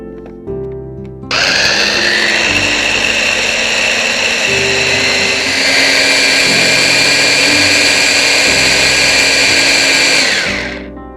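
An electric blender whisks eggs with half a cup of powdered sugar, starting after a brief clunk and running at a loud, steady whir for about nine seconds, with a small shift in pitch midway before winding down.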